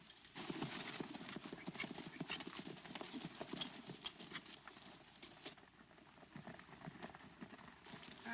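Horse hooves clip-clop steadily at a walking pace in a 1938 Western film scene, a continuous, fairly quiet rhythm of hoofbeats with no talking over it.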